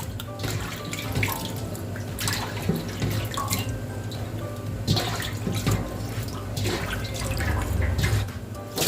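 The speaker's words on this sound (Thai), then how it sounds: "เราก็จะทำการล้างนะคะจนกว่า น้ำที่เราล้างตับนะคะ มันจะใสขึ้นนะคะ" Pork liver being rinsed gently in a basin of water, with steady splashing, dripping and sloshing throughout and no talking, recorded close by.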